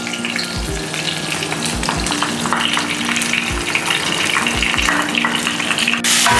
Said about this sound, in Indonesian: kita tumis ini sampai harum